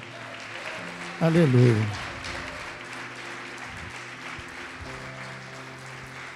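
A church congregation applauds during a Portuguese-language sermon on true worship, with steady clapping running under the preacher's voice and a brief, loud, sung shout of praise near the start.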